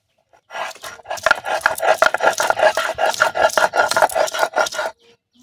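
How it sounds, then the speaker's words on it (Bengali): Garlic ground on a traditional village grinding stone for a spiced mutton curry: steady rhythmic scraping and rubbing strokes, close and fairly loud, running continuously for several seconds with no talk. "রসুনটা হচ্ছে কি বেটে নেব এবারে।"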